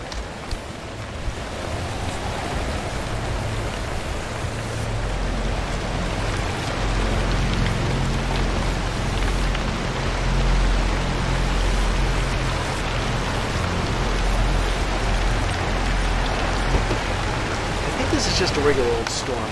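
Heavy rain pours in a steady, dense wash through a stormy scene in the video game Pacific Drive, with a low rumbling bed swelling midway and a few faint rattles near the end; no one speaks.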